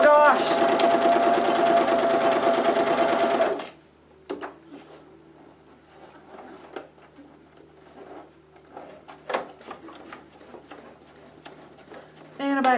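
Sewing machine stitching through paper, a steady loud mechanical whir of rapid needle strokes for a few seconds, then stopping, followed by scattered handling clicks and rustles with a person talking quietly.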